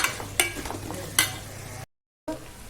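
Chicken gravy with tomatoes simmering and being stirred in a pan, with a steady bubbling sizzle and a few sharp scraping clacks of a spoon against the pan, close up, then a brief cut to silence before the cooking sound resumes.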